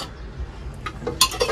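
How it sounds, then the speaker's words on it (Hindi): A metal spoon clinks against a bowl while oil, turmeric and other ingredients for a mutton cheese roll filling are mixed, a few light, close chinks after a soft stirring rumble. "अच्छा मिक्स कर देंगे"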